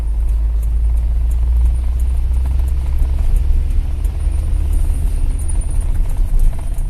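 A Toyota Innova petrol engine idles at around 800 rpm while the car rolls without throttle, giving a low, even rumble with faint road noise and no voices.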